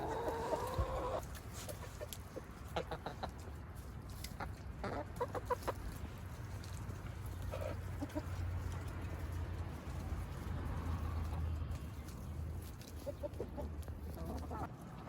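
Backyard chickens being fed bread and cantaloupe scraps cluck steadily nearby, with scattered sharper squawks and pecking over a low hum.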